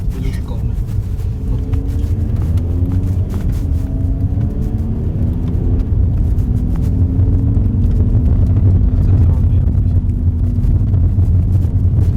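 A car accelerates hard with its gearbox in normal mode, a steady loud engine drone with rising harmonic sweeps as it pulls through the gears. The rumble stays continuous and close throughout.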